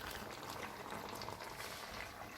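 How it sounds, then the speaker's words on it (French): Vegetables and pasta with crème fraîche simmer in a covered wok, giving a steady, soft bubbling hiss that runs unbroken and close, with no talk. "Maintenant, je vais fermer le couvercle et je vais laisser mijoter."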